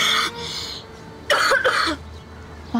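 A person with a cold coughs and clears their throat in several short, harsh bursts, close and loud, with pauses between them and no talking.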